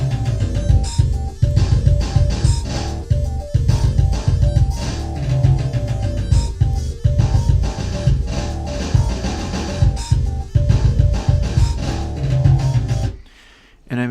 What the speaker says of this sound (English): It's this really bright pulse wave.